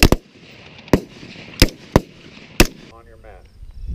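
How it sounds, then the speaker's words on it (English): Five sharp, loud rifle shots from a scoped service rifle, fired in a rapid string with short, slightly uneven gaps, each crack ringing briefly before the next. A faint clatter of handling follows the last shot. "When shooting rapid fire strings with the scope, the flow from shot to shot just seemed more natural."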